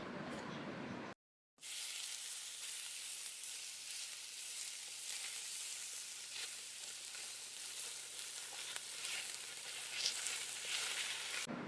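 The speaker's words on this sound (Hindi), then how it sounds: "अब इसमें शामिल कर देंगे और इसको फ्राई कर लेंगे।" Minced meat qeema sizzles steadily in a pan, a continuous close frying hiss with faint stirring, broken only by a brief silent gap near the start, no talking.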